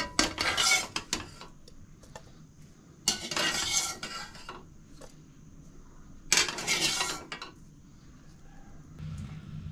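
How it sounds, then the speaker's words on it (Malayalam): A cooked egg is moved from a pan into another dish with metal utensils, making three separate bursts of scraping and clinking against cookware, with quiet gaps between them. "നമ്മൾ വേറെ പാത്രത്തിലേക്ക് മുട്ട മാറ്റാം."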